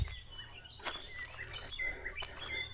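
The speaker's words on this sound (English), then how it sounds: "sometimes I love to hear the birds call" Birds calling in the bush around an African village, scattered high chirps and short whistles, faint and at a distance, with no talk.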